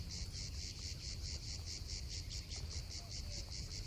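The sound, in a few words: cicada chirping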